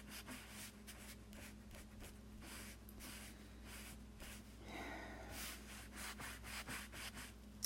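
Wax being rubbed over a chalk craft transfer on a Halloween door hanger tag: a faint, steady scratchy rubbing in repeated short strokes, close up, with a low hum underneath and no talk.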